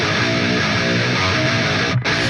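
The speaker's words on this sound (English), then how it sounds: "You can hear it go ka, ka, every time the guitar does a note after the rest." Electric guitar in a dense rock mix with a transient shaper boosting the first 20 ms of each pick attack by 5 dB, giving sharp clicky note onsets under sustained full-band instrumentation, with a brief dropout near the end.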